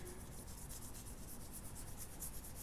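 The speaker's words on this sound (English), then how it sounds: "do it with a bit of very fine grit sandpaper" Very fine grit sandpaper rubs paint off a surface in soft, steady back-and-forth strokes, faint and close with a quick rhythmic rasp and no talking.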